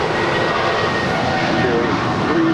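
Airplane noise at LAX airport in Los Angeles, recorded by a plane spotter: a loud, steady, broadband roar of a passing jet that fills the whole clip with no letup.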